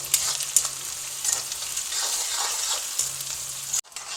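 Onions sautéing in a pan for neer urundai: a steady, bright hiss of frying that holds at an even level, with a few stirring scrapes and light clinks, then cuts off sharply near the end before fading back in softly.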